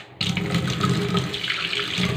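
Water gushes from a kitchen sink faucet just opened after clearing a clog, a sudden start followed by a loud, steady splashing stream into the basin.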